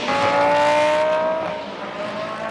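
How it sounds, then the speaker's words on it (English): GT race cars fire up and rumble out of the pit exit during Blancpain Sprint Series qualifying in Moscow. A loud engine note falls away as the cars pull off, leaving a quieter rumble behind. "As some more cars fire up and rumble down the pit exit."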